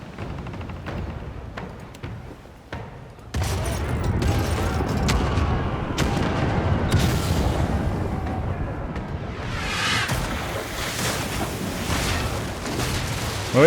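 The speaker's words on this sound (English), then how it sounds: "fire the starboard cannons" Starboard cannons on a ship fire in a video game, a volley of heavy booms and cracks over a sustained rumbling roar, with a swelling whoosh near the end.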